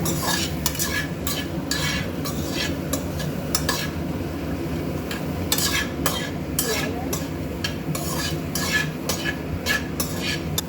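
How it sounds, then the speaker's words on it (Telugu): A utensil stirs vegetable fried rice in a pan, with continuous clattering scrapes and taps over a low frying sizzle, loud and close throughout. "మంచిగా మిక్స్ చేసుకోవాలి. కొద్దిసేపు ఒక 2 మినిట్స్ మిక్స్ చేస్తూ ఉండాలి."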